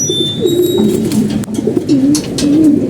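Pigeons coo in soft, rolling, throaty phrases, close by and repeated several times, with faint rustling in the background.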